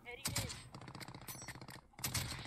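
Rapid bursts of automatic gunfire in Call of Duty: Warzone, two loud volleys separated by a brief quieter stretch, with a voice faintly present underneath.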